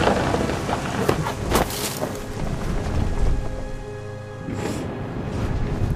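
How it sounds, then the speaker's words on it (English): Rain and wind from a thunderstorm in the video game What Remains of Edith Finch, a steady wash of rainfall with a few sharp bright crackles and a deeper rumble swelling near the end. "The thunder sounded much too close and full of angry power"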